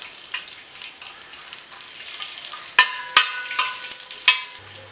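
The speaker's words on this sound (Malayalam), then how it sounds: "അണ്ടിപ്പരിപ്പ് ഇവിടെ മൂത്ത് വന്നിട്ടുണ്ട്." Cashew nuts roast in a hot uruli over a low to medium flame for ada pradhaman, giving a steady close sizzle broken by several sharp scraping knocks of stirring toward the end.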